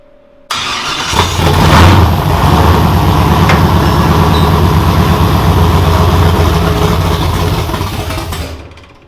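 A new engine in a nitrous Chevrolet Nova fires up after a short crank and settles into a loud, lumpy, rumbling idle that holds for several seconds before cutting off abruptly, recorded close up.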